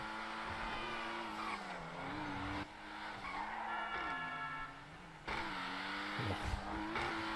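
Ocelot Pariah sports car in GTA 5 Online, its engine droning and revving continuously while tires squeal and skid through turns, heard fairly quietly with no talk.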